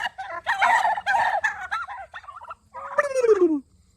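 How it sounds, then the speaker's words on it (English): Turkeys on a farm gobble loudly and close by in several rapid, rattling bursts, ending in one long descending gobble, with no talking. "We have the turkeys."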